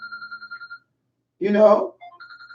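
A phone's electronic ringtone trills in quick repeated pulses, breaks off while a voice speaks briefly, then resumes ringing.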